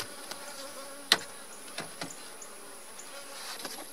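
Honeybees buzz around an opened beehive during an inspection, a faint steady hum with a few sharp clicks and knocks from handling the frames.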